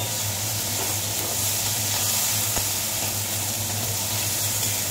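Ginger paste sizzles and fries in a hot pan, making a steady, close, continuous hiss with no pauses and no voices.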